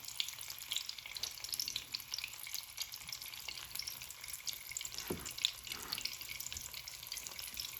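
Peppers frying in hot oil in a pan on a home stove give off a steady, close crackling sizzle with light stirring clinks, continuous and unbroken with no voices.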